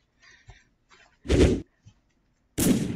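Two loud, broadband grenade blasts in a video game, each a short booming burst about a third of a second long, preceded by faint chirpy game sounds.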